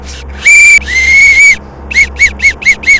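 A shrill police whistle blown close up in a playful tune in Euro Truck Simulator, two long blasts, then a quick run of six short rhythmic toots.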